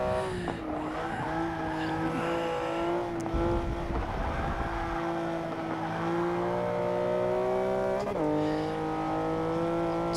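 A 2015 Porsche Cayman GTS driving in Forza 6, its engine droning steadily at high revs with pitch rising and falling through gear changes and a brief tire squeal, loud and continuous with no talking.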